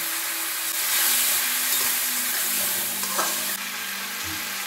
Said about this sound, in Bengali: একটু জল দেবো, জল দিয়ে মশলাটা খুব ভালো করে কষিয়ে নেব।